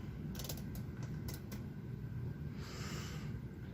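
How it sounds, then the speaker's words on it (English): A row counter on a punch card knitting machine being reset, giving a few quick mechanical clicks and a short ratcheting creak, close and quiet over a steady low hum. "Resetting our row counter."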